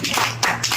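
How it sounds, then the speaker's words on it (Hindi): A few quick claps heard close up during an Indian village comedy sketch set in a classroom with a schoolteacher, a short patter of hand claps lasting under a second. "ताली बजाओ उनके लिए"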